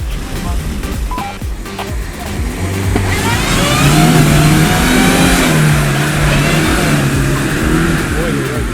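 A Lada Niva's engine revs hard and steadily while it is hauled out of an off-road water crossing through a winch pulley block, the loud rising drone running continuously under a background of outdoor noise.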